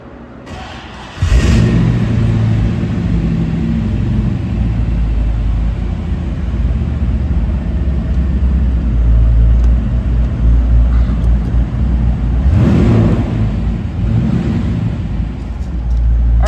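A big GM LT1 5.7-liter V8 in a 1932 Ford Roadster street rod cranks and fires up, then settles into a loud, deep rumbling idle with a couple of sharp revs, close by.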